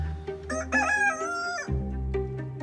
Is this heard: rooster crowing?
yes